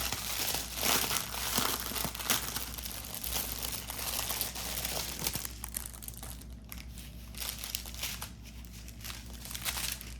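A diamond painting kit's packaging crinkles and rustles while being opened, with close, quiet plastic crackles and a few tearing bursts that thin out toward the end, over a low steady hum.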